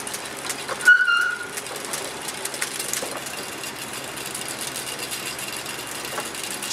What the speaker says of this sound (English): So if I turn the fan on here, we'll see that the windmill orients itself